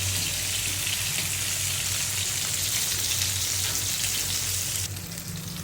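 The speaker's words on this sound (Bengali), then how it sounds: "আমি একটু রসুন বাটাটা দিয়ে দিলাম। রসুনটা ভালোভাবে কষিয়ে নিব।" Garlic paste and fried onion sizzle steadily in hot oil, a dense, continuous frying hiss that stays loud and close throughout, with a slight change in tone near the end and no talking.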